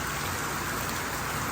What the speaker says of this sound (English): the rain has been coming down like this and hasn't stopped